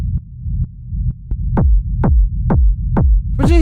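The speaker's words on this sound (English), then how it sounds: "you can make a rumble just like this, without the 16th notes, and maybe like a little bit longer reverb." Rolling rumble kick drum for techno, played as steady quarter-note hits with no 16th-note rolls, each boom swept low with a longer reverb tail, loud and alone.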